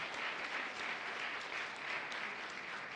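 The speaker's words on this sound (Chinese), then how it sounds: "拍手拍手。" Church congregation clapping during an Easter worship service, a short, even round of applause from many people, moderately distant and steady for a few seconds.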